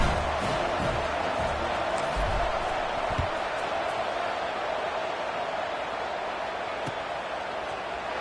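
Football stadium crowd at a game after a score, a broad steady murmur of many voices with a few faint thumps, moderately loud and continuous.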